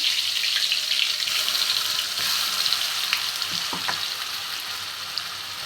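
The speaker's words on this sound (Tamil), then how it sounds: "அதில் கருவேப்பிலை கொஞ்சம் சேர்த்துட்டு நம்ம அரைச்சி வச்சுருக்க விழுதை சேர்த்துடலாம்" A steady, loud sizzle of ground spice paste and curry leaves frying in hot oil for South Indian crab pepper, with a few faint clinks and stirring sounds underneath.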